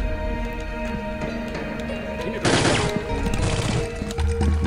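Bursts of gunfire aimed at the player in Soldier of Fortune 2: Double Helix, a dense crackling volley erupting midway and lasting about a second, then thinner shots over a steady background hum.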